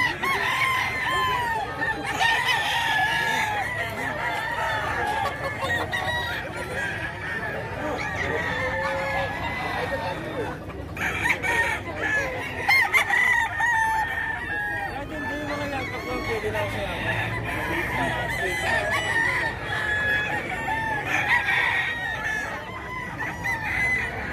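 Several fighting roosters at a breeder's in Bocaue, Bulacan crow repeatedly, some close and some farther off, amid clucking and a background of people talking.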